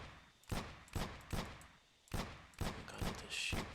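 Gunshots from the Aim Lab aim-training game ring out at close range as sharp individual cracks, eight shots in an uneven rhythm of pairs and runs, each with a short decaying tail and no talking.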